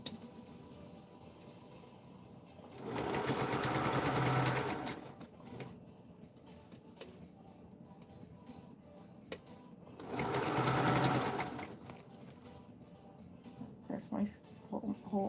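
A sewing machine stitches through bulky dress form padding in two loud sustained bursts of a few seconds each, separated by quieter room sound and light handling noise.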